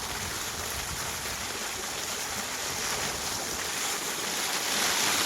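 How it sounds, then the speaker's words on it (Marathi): Water gushes steadily from a Laxmi three-phase 5 HP motor pump on a farm, a constant close hissing splash that swells slightly louder toward the end with no talk. "3 फेज मोटर, 5ची मोटर आहे, लक्ष्मी कंपनीची. 1 नंबर पाणी मारते."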